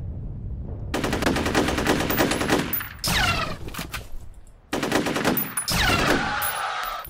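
Rapid automatic gunfire rattles in long loud bursts in the shooter game F.E.A.R., broken by short pauses and sharp shots with ringing echoes.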